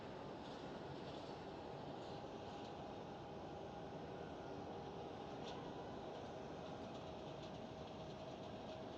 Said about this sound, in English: Delta Airlines Airbus A330-900 taxiing out